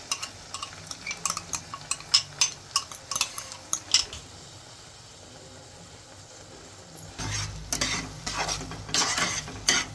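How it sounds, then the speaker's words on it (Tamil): Curry paste is sautéed in a pan: rapid scraping and stirring with sizzling frying, a burst of clanks early on, then quieter sizzle before louder stirring resumes. "இது கொஞ்சம் நல்லா வதக்கிட்டு"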